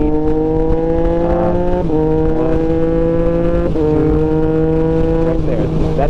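A 2024 Triumph Street Triple 765 RS riding along with a loud, close engine whose pitch climbs and then drops sharply at two quick quickshifter upshifts, while the rider talks over it.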